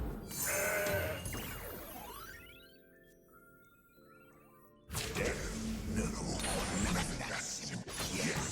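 A goat bleats in the Legends of Runeterra card game, a wavering cry rising over busy game effects, followed by a sudden loud crash and continued clattering card-battle sounds.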